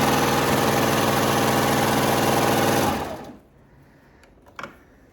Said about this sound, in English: and serge off.